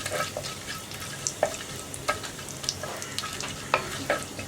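Whole cinnamon, cloves, cardamom and cumin fry in a hot pan under a soft steady sizzle, broken by intermittent scrapes and clicks of a stirring utensil.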